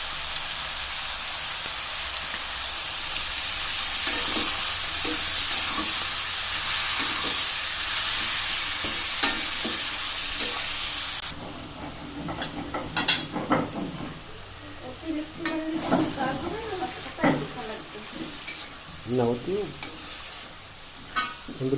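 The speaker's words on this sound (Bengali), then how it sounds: "আমরা একটু নাড়াচাড়া করে দিচ্ছি" Cabbage frying with chui jhal, salt and turmeric in a pan: a loud steady sizzle and hiss at first, then a quieter stretch of repeated scraping stirs and soft clatter of a spatula turning the leaves.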